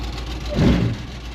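A 1951 GMC truck engine cranks briefly and catches, a low rumbling burst that swells near the middle and settles back into a steady idle close by.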